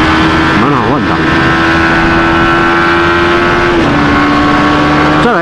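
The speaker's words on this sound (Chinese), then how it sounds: "这台车的换挡哦，还蛮算是蛮顺畅的" A Suzuki GSX-S150 motorcycle accelerates hard, its loud, buzzy engine note wavering at first, then rising and briefly dipping at a gear shift before climbing again.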